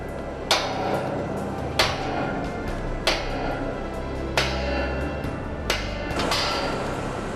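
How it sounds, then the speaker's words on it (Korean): Heavy metallic hammer blows ring out during tower crane climbing work, at slow, regular intervals, about six strikes, each sharp and resonant over a steady mechanical background rumble. "쾅쾅 두드려대는 망치 소리가"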